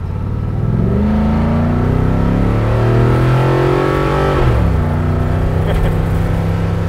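A rat rod car engine, from a pair including a 1930 Ford Model A and a 1936 Cadillac Series 75, revs up close and loud, pitch climbing steadily before dropping back to a rumbling idle.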